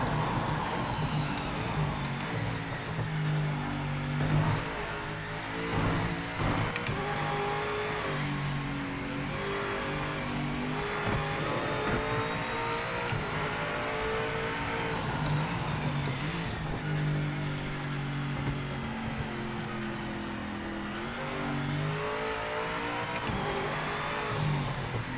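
A BMW GTE race car in the Project Motor Racing video game at Spa-Francorchamps revs hard, its engine note rising and falling through gear changes and corners, loud and continuous with no talk over it.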